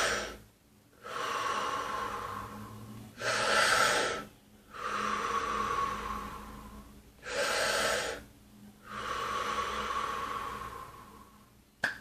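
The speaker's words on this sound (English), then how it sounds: "so that was just 3 breaths" Three deep, full Wim Hof breaths, each a long forceful inhale followed by a released exhale, heard close and loud in a steady rhythm with short pauses between breaths.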